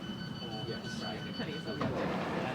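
A London Underground Hammersmith & City line train bound for Barking rumbles and clatters steadily at moderate volume, with a recorded announcement voice speaking over the rolling noise.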